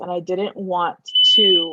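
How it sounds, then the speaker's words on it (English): A high, piercing smoke alarm tone, set off by cooking, sounds in a short burst between phrases, as a person keeps talking close by. "our fire alarm keeps going off"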